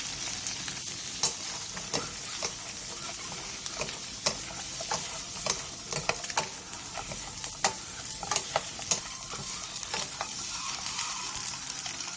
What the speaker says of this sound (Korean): 팬에 참기름 1스푼을 두른 뒤 삶은 계란 5개와 꽈리고추를 넣고 센 불에서 1, 2분 정도 볶아주세요.